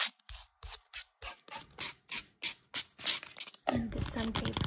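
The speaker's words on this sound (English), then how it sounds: "And this sandpaper as well is a lot more coarse." Coarse sandpaper is rubbed in about a dozen rhythmic, evenly spaced strokes close up, followed by a soft voice speaking at the end.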